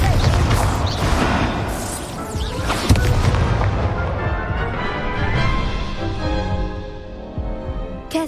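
An Incendio fire spell from a wizard video game erupts as a loud, dense roaring whoosh with booming crackle, holding steady for several seconds before tapering off; a voice shouts the spell at the start.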